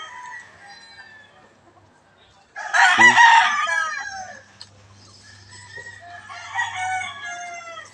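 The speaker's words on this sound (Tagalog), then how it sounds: "Marami po silang mga alagang manok po dito mga guys." Chickens and roosters on a farm with many trees: a loud rooster crow bursts out midway, with clucking and other birds around it and a person speaking softly nearby.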